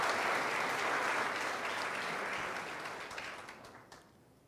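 A church congregation applauds after the Gospel reading at a Catholic renewal seminar, a dense sustained wash of clapping from many hands that fades gradually toward the end.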